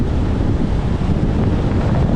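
Strong wind gusts buffet a coastal sand dune on the Oregon shore, a loud, continuous roar of wind noise with surf-like rumble and no voices.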